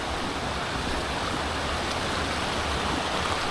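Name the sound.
river flowing on Fairlie Moor, Scotland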